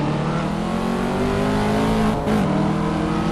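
Chevrolet Corvette Stingray engine in the Assetto Corsa racing game, a loud sustained roar with layered harmonics that dips briefly in pitch as if shifting, then pulls hard again.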